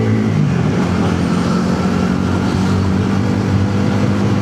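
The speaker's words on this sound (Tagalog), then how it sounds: "Nakakamiss talaga ang medyo mabilis-bilis na motor." A Bajaj Pulsar NS400Z motorcycle rides at night, its engine droning loud and steady over rushing wind noise, with no talk.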